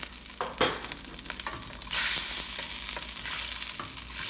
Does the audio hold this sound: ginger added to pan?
yes